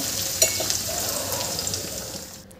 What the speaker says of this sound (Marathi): याला मी छान ब्राऊन कलर होईपर्यंत, याचा कच्चेपणा जातपर्यंत याला छान शिजवून घेते कांद्याला।